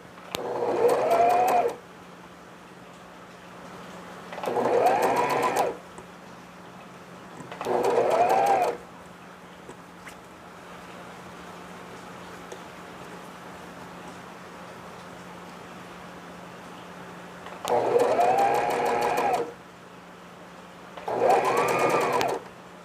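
Sewing machine stitching piping onto a baby frock, running in five separate bursts of steady whirring separated by pauses, close and fairly loud over a low constant hum.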